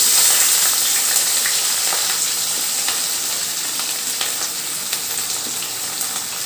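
Green chilies and chopped onion fry in hot oil in a pan for a prawn curry, a steady, loud crackling sizzle with sharp pops throughout and no voices.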